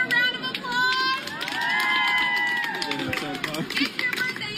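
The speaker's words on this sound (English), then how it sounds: "Can I get a round of applause?" A crowd in a Hooters restaurant claps, whoops and shouts to celebrate a boy's fifth birthday. Loud, overlapping cheers and high excited voices fill the room, with bursts of clapping running throughout.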